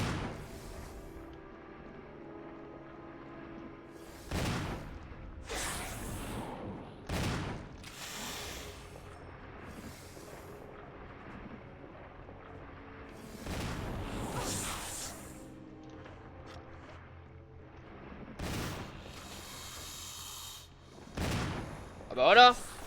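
Heavy Magnum gunshots in a Resident Evil video game, several loud isolated blasts spaced seconds apart with echoing tails, someone talking quietly between them.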